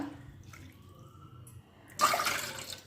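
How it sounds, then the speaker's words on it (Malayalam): After a quiet stretch, two cups of water suddenly gush into a pot for a semolina sweet, a steady, loud pour that continues to the end. "അതിലേക്ക് നമുക്ക് ഈ കപ്പിൽ തന്നെ രണ്ട് കപ്പ് വെള്ളം ഒഴിച്ചു കൊടുക്കാം"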